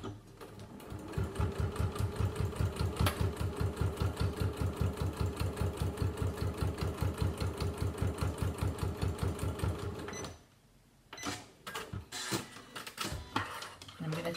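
A sewing machine fitted with a zipper foot stitches along folded fabric in a steady rapid run of needle strokes for about ten seconds, then stops. Short handling clatter follows, with a voice speaking lightly under the machine.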